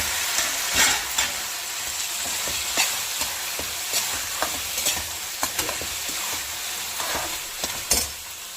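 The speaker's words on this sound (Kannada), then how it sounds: "ಇವಾಗ ಇದರಲ್ಲಿ ಟೊಮೆಟೊ ಹಾಕ್ತಾಯಿದ್ದೀವಿ." Tomatoes added to a hot pan for a paneer curry, frying with a steady sizzle while a spoon stirs and scrapes in irregular strokes, close and alone without talk.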